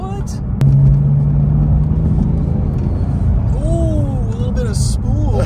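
An 800 hp Porsche 911 Turbo's engine builds boost with a rising turbo whistle and rumble, while people talk and exclaim over it from inside the car.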